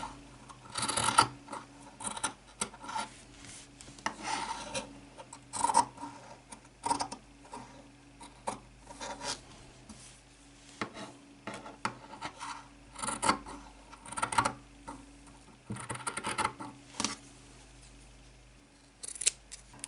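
Scissors snip material for a small no-sew, no-glue doll bag, with bursts of close crisp cuts and rustling paper-like handling between them, repeating irregularly throughout.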